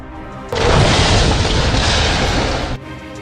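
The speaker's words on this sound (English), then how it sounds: "The New Year's fireworks were a little early." Fireworks exploding at a road intersection, a loud, dense, continuous blast of booming bursts and crackle that starts abruptly and runs for about two seconds before cutting off.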